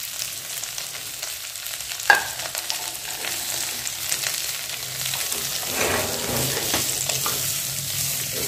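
Grated carrots roast in ghee in a pan over a medium flame, giving a soft, steady sizzle with a sharp clink of a utensil near the start and light stirring scrapes afterwards.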